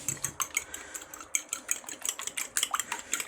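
Quick, light metallic clinks and taps of a fork beating eggs in a bowl, a steady uneven rhythm, close and fairly loud, with no talking.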